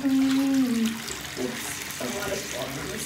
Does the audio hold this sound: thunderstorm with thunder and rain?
no